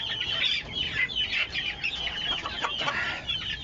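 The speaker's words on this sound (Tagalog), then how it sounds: "Nandito tayo ngayon guys sa aking maliit na manukan." Chickens cluck and murmur steadily in a small rooftop coop, a dense overlapping chorus of close hens with no one speaking.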